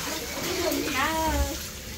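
Tap water splashes into a tub or container, a steady close patter that swells briefly at the middle. A voice talks over it.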